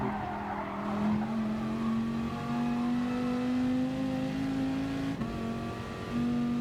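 A Dodge Viper race car in GT Sport howls down the Nordschleife, its engine note climbing steadily through gear changes, loud and continuous with no talk.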